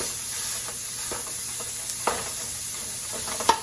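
Jambalaya stuffing for lobster tails sizzles steadily in a hot pan while a utensil breaks it up, adding a few soft scraping taps over the continuous frying hiss.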